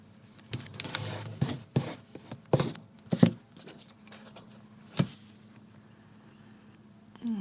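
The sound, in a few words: bone folder creasing a folded book page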